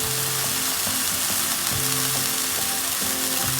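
Fish fillet pan-frying in a pan, a steady loud broadband sizzle running throughout with faint clinks of a utensil, no voices.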